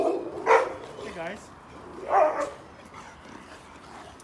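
Dogs barking near a condominium, a couple of loud close barks spaced about a second and a half apart with softer yips between, while a person speaks briefly.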